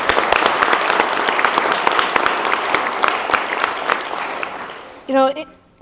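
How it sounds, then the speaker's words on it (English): Loud, sustained crowd applause at a congressional town hall in Anchorage fills most of the clip, fading out near the end as a voice briefly begins speaking. "Let's give yourself a hand of applause."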